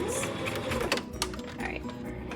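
Sewing machine stitching fabric for a knotted fabric headband, a steady close mechanical whir running throughout with small clicks of handling on top.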